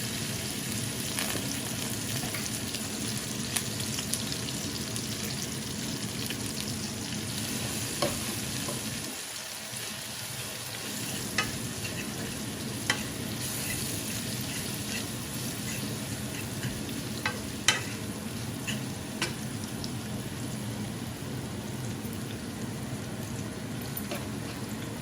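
Onions fry in a pan with a continuous dense sizzle throughout, a few faint clicks and taps scattered over it, steady and close with no talk.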